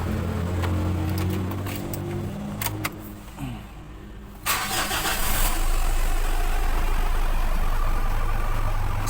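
A Mitsubishi Montero engine cranks briefly, catches and settles into a steady, close idle after a short quiet pause, a loud continuous rumble to the end.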